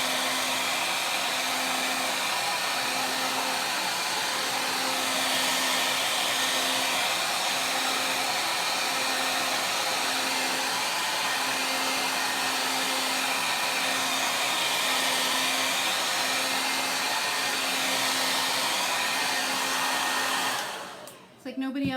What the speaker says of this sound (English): I'm going to dry this up quickly with my hair dryer